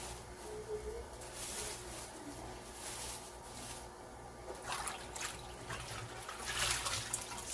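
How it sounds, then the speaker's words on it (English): Dirty rinse water is wrung by hand from washed Southern collard greens, running and trickling in uneven bursts, close and fairly quiet. "squeeze it like it's a rag, because you want all that water out"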